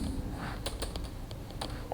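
Brisk typing on a computer keyboard while HTML code is entered, scattered key clicks in short bursts over a steady low hum, close and fairly quiet.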